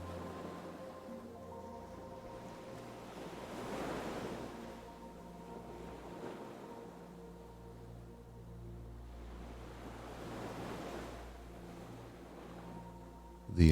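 Ocean surf rolls in slow, gentle swells every few seconds, soft and steady beneath calm sustained music tones, with no voices.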